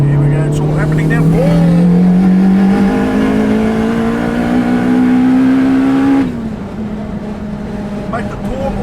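A 645bhp Honda Civic Type R accelerating hard, heard from inside the car: a loud engine note climbs steadily in pitch for several seconds, then drops away sharply on the upshift.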